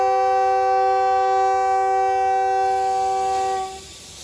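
The Subak Kharam train at Lahore railway station blows a long, loud, steady horn chord as it departs, holding for several seconds before cutting off and leaving rumbling station noise.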